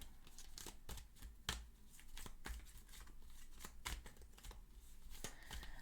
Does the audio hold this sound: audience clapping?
no